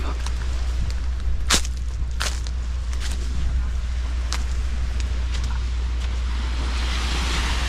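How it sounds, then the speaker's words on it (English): Wind gusts across a beach at Dry Tortugas National Park, a constant loud rumble and buffeting against the microphone, with a few sharp clicks and knocks nearby. "there's a wind coming"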